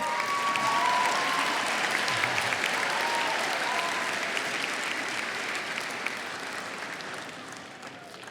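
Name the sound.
audience applause welcoming a GED graduate to the podium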